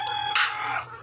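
Chickens clucking nearby, a short burst of a hen's call rising briefly over a steady background hum.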